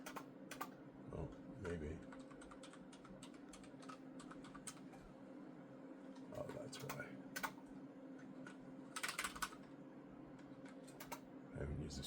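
A password is typed on a computer keyboard in quick, uneven bursts of close, quiet key clicks, with short pauses between runs and a few brief muttered words in the room.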